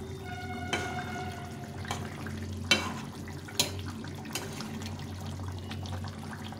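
Pieces of rohu fish go into a simmering curry with eggplant and potato, making a few soft wet plops and splashes over a low, steady bubbling background with no talking.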